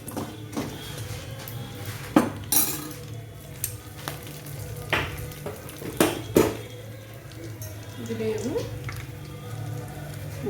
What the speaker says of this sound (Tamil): அப்புறம் சும்மா ஒரு நாலஞ்சு முந்திரி பருப்பு இதெல்லாம் சேர்த்துட்டு நல்லா வறுத்துக்கலாம்